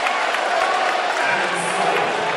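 A basketball crowd cheers and applauds as the home side takes a 31-28 lead going into halftime, a dense, steady roar of many voices filling the arena without letup.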